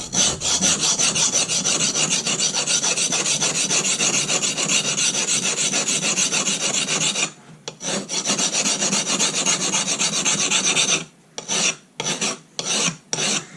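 Silicon carbide abrading a sharpening stone during flattening gives a loud, steady rasping scrape for about seven seconds, then resumes after a brief pause and breaks into four short strokes near the end. No voices are heard.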